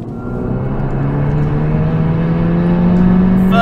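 A modified Mk2 Seat Leon FR at Stage 2 tune with a 3-inch downpipe and S3 intercooler pulls hard on the road, its engine drone climbing steadily in pitch and staying loud and close throughout.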